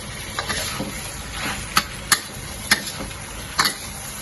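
Pork cubes, broccoli, mushroom and red chili are stir-fried over high heat. A steady sizzle runs throughout, broken by several sharp clicks of a utensil against the wok, and no one speaks.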